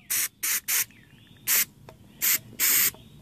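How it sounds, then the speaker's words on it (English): Carbon choke cleaner sprayed into the EGR valve port of a 2002 Mitsubishi Lancer in six sharp hissing bursts, three quick ones, a pause, then three more, close and fairly loud. "we're going to take some carbon choke cleaner and spray it in there real good"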